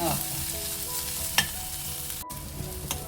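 Sliced onions frying in oil in a pan for a North Karnataka vegetable curry, a steady close sizzle with light stirring scrapes and a brief clack partway through, no voices.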